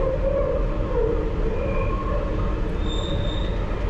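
London Underground Piccadilly Line train taking a curve between Arnos Grove sidings and Earls Court, with a dense, continuous rumble of wheels on track and high, drawn-out flange squeals rising and fading over it, loud and close throughout.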